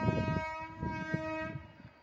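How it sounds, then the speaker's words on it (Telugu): A train horn blares steadily near at hand, with rumbling and clattering of rail cars underneath for the whole stretch, near Rayanapadu railway station. "ట్రైన్ ఏదో వస్తుంది చూడండి, చూద్దాం రండి."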